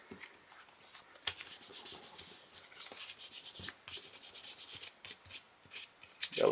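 Two paper booklet pieces are lined up at the seams and rubbed firmly together, giving a close, continuous scratchy swishing with uneven strokes throughout.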